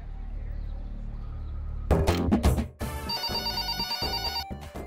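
A telephone rings while someone places a call home, its bright electronic ringing rising out of a few loud knocks and bumps and continuing steadily, with some background voices underneath.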